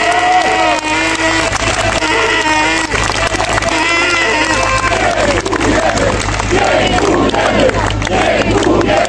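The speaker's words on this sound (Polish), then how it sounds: "Proszę o brawa dla wszystkich ludzi mediów," A large outdoor crowd at a STOP Act 447 march in Warsaw claps and cheers continuously, with loud shouted voices rising and falling through the dense, sustained noise.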